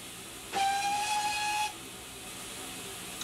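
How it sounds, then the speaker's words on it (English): A steam locomotive whistle in the Trainz Plus train simulator on the Gloucestershire Warwickshire Steam Railway route gives one loud, steady toot lasting about a second, with faint background hiss before and after. "then we're going to give ourselves a toot on the whistle"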